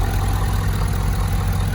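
A 2019 Ford F-250 Super Duty Lariat with a 6.7 liter Powerstroke diesel engine idles steadily, a close, continuous low rumble with no talk over it.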